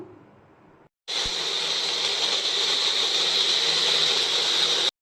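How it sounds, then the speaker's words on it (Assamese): An electric mixer grinder starts abruptly after a short pause and runs loud and steady, a high whirring roar as it grinds tomatoes, ginger, garlic, onion and cashews into a curry paste. "ইয়াত মই মিক্সিত মাৰি ল'ম"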